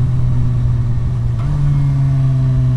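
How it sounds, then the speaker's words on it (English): A car engine holds a steady drone, then its pitch steps up slightly as revs rise during a clutchless downshift on a London road; loud and close, with no talking. "I will probably do clutchless downshifts"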